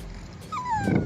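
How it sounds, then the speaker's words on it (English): A dog whines in a thin, high, drawn-out tone, rising briefly and sliding down, over a low rumble of wind. "And the dog is still moaning."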